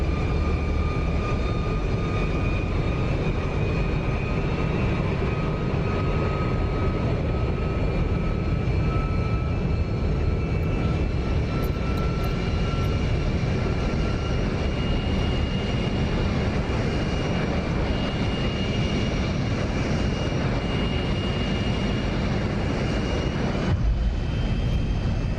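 An F-104 Starfighter jet engine roars steadily in flight in the DCS flight simulator, a loud continuous whine and rumble that holds throughout with a brief dip near the end.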